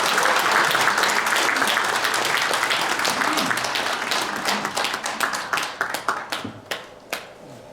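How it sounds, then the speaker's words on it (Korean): Applause from a forum audience greeting a visiting professor, a dense sustained roar of many clapping hands that thins out toward the end into scattered individual claps. "우리 김성환 교수님을 큰 박수로 맞이해주시기 바랍니다."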